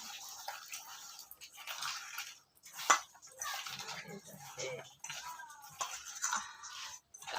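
Spiced mango mash mixed by hand, with soft wet squelching and squishing, close and intermittent, alongside someone speaking in Bengali.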